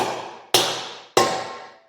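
Two sharp metallic tinks from a metal bearing race being seated, about half a second apart, each ringing out and fading quickly in a quiet space.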